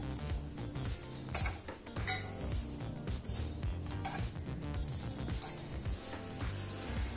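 Busy clinking and scraping of utensils against a bowl as cauliflower is mixed into batter, steady and continuous throughout, close by with no talking.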